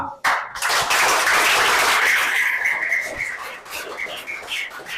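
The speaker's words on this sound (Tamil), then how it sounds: "எல்லோரும் சேர்ந்து கைதட்டுவோமா?" A school audience claps together in a sustained burst of applause that starts abruptly and fills the room, then thins toward the end, with a few voices and cheers mixed in.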